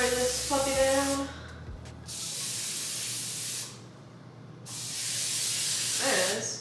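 Butter cooking spray hisses into a baking pan for brownies in two long, loud, close bursts separated by a pause, with a brief voice at the start.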